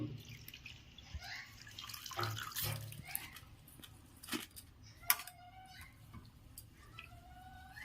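Chopped coriander leaves being washed and swished in water, with soft splashing and dripping, a few sharper clinks, and low background hum throughout.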